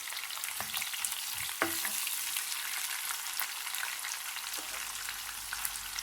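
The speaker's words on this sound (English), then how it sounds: "Add 1 sliced onion. Fry till golden brown." Sliced onion frying to golden brown for a Kerala pumpkin curry, a continuous bright sizzle with a few soft stirring knocks in the first couple of seconds, steady and fairly quiet.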